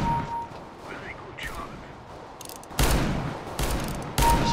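Loud bursts of Revolver R8 gunfire in Counter-Strike: Global Offensive, with two heavy, sharp shots late in the clip over a busy game background.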